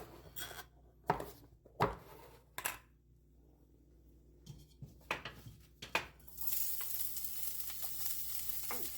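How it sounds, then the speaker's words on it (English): Onions frying in shimmering oil in a pan for a creamy pork and squash dish, scattered sharp scrapes and clatters of a utensil, then a rising steady sizzle near the end, close and without talk. "You want to cook until the onions are soft."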